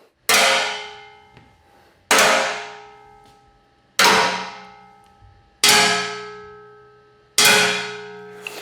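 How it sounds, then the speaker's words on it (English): A metal chair is struck five times at even intervals, each hit a loud, bright clang that rings and slowly decays before the next. The hits were recorded for Terminator: Dark Fate sound design. "Yes, I'm sitting on a chair, but the chair is also a piece of metal."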